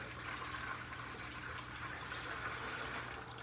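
Water runs steadily into a container, set out for rinsing an aquarium sponge filter, a soft continuous trickle and splash that stays faint and even throughout with no talk.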